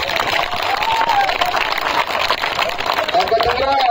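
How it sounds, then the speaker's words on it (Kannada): A crowd at a protest rally of lawyers backing sugarcane farmers applauds loudly. The clapping is steady and dense throughout, with voices mixed into it. "ಅವರಿಗೆ ಜೋರಾಗಿ ಚಪ್ಪಾಳೆ ಮಾಡ್ತೀವಿ."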